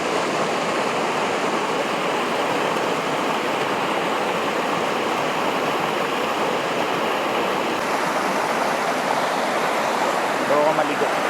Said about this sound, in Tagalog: It's Kawa-Kawa River.